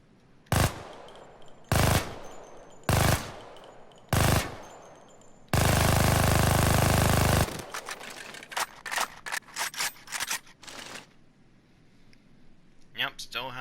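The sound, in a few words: Skorpion submachine gun firing in the video game Payday 2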